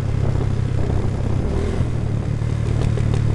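A motorcycle engine rumbles loud and steady at close range, a constant low drone with no voices.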